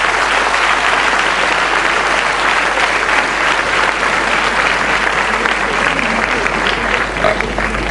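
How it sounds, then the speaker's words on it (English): A large audience at a debate final gives a loud round of applause for the event's sponsors, a sustained, dense roar of clapping that stays strong throughout and fades slightly near the end. "I think they deserve the biggest round of applause from the audience."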